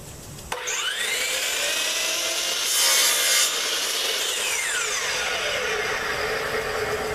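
A saw cuts off excess oak wood in a continuous rasping stroke that runs loud and close for several seconds, rising briefly in the middle, with no talking.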